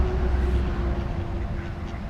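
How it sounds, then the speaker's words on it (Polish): Ducks quack and honk nearby in a continuous busy chorus over rumbling outdoor background noise. "Zobaczcie sobie ile tu jest kaczek."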